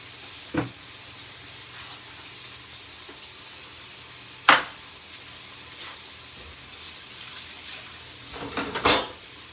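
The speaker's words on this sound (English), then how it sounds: "we're just going to start frying that for a minute or two each side" Steady sizzling of steak frying in butter in a pan, with a few sharp clinks of utensils against the pan now and then.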